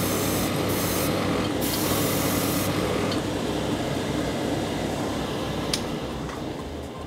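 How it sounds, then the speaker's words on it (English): A steady airbrush hiss sprays paint continuously, close up, with a constant airflow from a Sparmax Arism compressor underneath and small intermittent clicks. "it's coping really nicely, spraying this great paint from Ammo by MIG"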